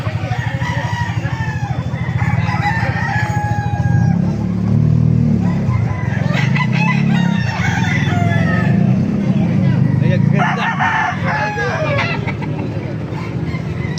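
Several caged roosters crow loudly and repeatedly at a market, their calls overlapping with hens clucking and general farmyard commotion close by.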